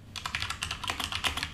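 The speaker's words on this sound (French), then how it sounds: "je vais aussi taper sur le clavier histoire de voir ce que ça donne." Rapid clicking keystrokes on a computer keyboard, picked up close by a Tonor TC30 microphone, a steady quick patter of individual taps with no talking.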